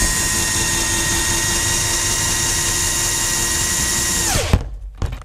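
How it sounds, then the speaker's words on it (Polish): Cordless screwdriver winding up the stabilizer legs of a camping caravan, a loud steady high whine that suddenly winds down and stops, followed by a few short knocks. "Tutaj mam wkrętarkę od Kamila i podnoszę podpory."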